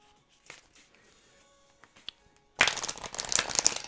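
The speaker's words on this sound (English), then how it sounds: "Do some shuffling." A Moonology oracle card deck is shuffled. After a near-silent start, a sudden dense run of crisp riffling and flicking sets in and continues close and steady to the end.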